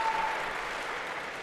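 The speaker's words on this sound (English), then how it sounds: "All right, a big round of applause." Applause from a lecture audience at Harvard's CS50 class fills the short moment, a steady, fairly distant patter of many hands with no voices over it.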